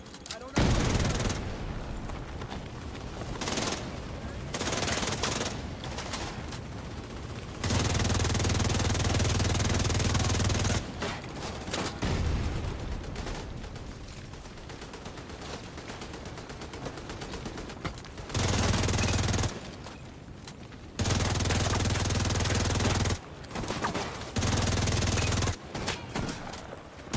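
Video game firefight with sustained automatic gunfire and grenade blasts, loud dense bursts of several seconds each, separated by short quieter gaps, with occasional talk in between.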